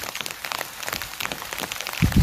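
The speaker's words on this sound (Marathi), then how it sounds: "पाणी कसा बारीक आणि असा एक एक थेंब असा पडत आहेत." Rain falls in fine, separate drops, a light irregular patter of small taps at moderate loudness, with a heavier low thump toward the end.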